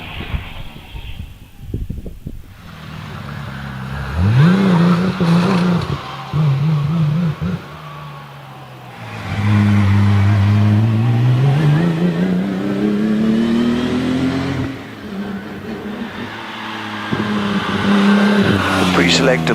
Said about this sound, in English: He has an understanding of these 2-litre Riley engines.